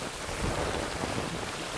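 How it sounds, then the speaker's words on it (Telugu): Heavy rain mixed with hail falls in Hyderabad, producing a dense, steady, close roar of broadband noise throughout with no voices. "భారీ వర్షంతో పాటు వడగండ్ల బాణ పడుతుంది"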